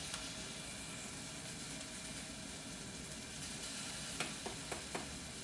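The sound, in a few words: onions and ginger sizzling in a pan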